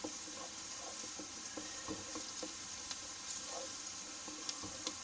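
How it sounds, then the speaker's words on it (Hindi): Onions sizzle and crackle steadily in hot oil as they fry toward a light golden colour for aloo keema, with a dense, continuous hiss and scattered pops heard up close, with no talking. "देखिए प्याज फ्राई हो रहे हैं"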